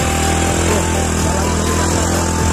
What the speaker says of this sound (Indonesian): Semoga motornya kuat.